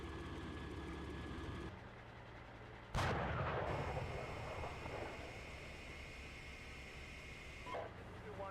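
Heavy weapon fire in the Steel Beasts Pro PE tank simulator, a sudden loud blast followed by a rumbling decay and a later faint crack, all over a constant engine drone with a voice speaking over the radio.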